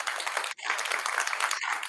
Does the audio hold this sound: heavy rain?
no